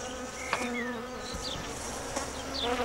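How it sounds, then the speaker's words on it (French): Near a beekeeper's pine-honey hives, a steady swarm of honey bees hums close by. Single bees whine past now and then above the dense, continuous drone. "L'apiculteur enfume les abeilles pour les étourdir."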